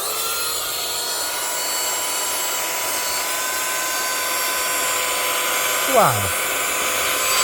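A rechargeable handheld Temu car vacuum cleaner runs with a continuous high whine and airy rush, steady and close throughout, while a voice exclaims briefly near the end.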